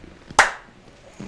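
A single sharp hand clap marks the start of a take, loud and close, standing alone in a quiet room with a little faint background noise after it.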